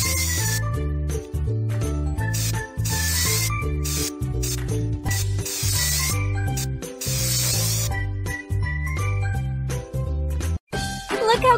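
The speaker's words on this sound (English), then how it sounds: "Choose the color you like and spray it." Repeated hissing spray bursts over bouncy game music with chiming sound effects, each spray lasting about a second.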